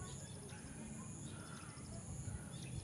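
Birds chirp in the countryside beside rice fields, faint repeated calls over a steady low rural background hum, distant and soft.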